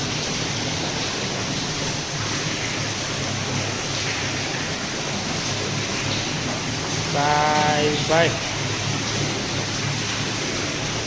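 Water trickles steadily into a bored well on a farm near Rajkot, a constant close hiss running throughout, with a voice briefly speaking over it near the end.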